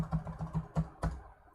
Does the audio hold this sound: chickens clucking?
no